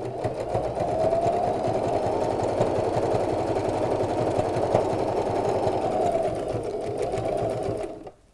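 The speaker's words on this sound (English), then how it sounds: "I'm going to applique this around the edge in a zigzag stitch" A home sewing machine runs a steady zigzag stitch around the edge of an appliqué on a first aid pouch, a continuous close motor whir with rapid needle chatter that holds for about eight seconds before stopping.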